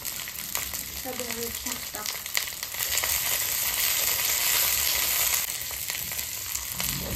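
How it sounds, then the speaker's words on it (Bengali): Steady hot-oil sizzling of chili, onion and garlic sautéing in a pan, growing louder midway, with faint brief voice-like tones early on. "হালকা করে সটে করে নেব"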